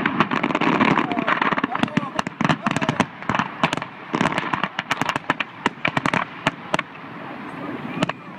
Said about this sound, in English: Did they blow up all the fireworks on the bottom already?